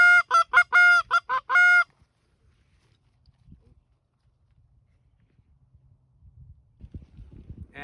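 Flock of wild geese honking overhead during a hunt, a quick series of loud, clear honks for about two seconds, then near silence with faint rustling and movement nearby.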